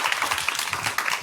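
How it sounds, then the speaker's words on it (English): A forum audience claps for a panel of speakers, a short, moderately loud burst of dense applause with no voices over it. "Let's give them all another applause."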